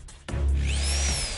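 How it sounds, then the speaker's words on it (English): A toy power drill whirs steadily with a low buzzing hum and a faint rising whine, starting abruptly after a brief click and running for about a second during pretend dinosaur surgery play. "Power drill!"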